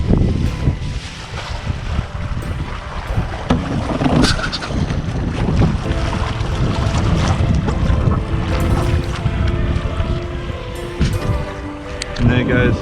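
A yacht passes on a windy bay, heard as a rushing, blustery wash of wind noise and water with a low engine-like rumble, while someone talks over it close to the microphone.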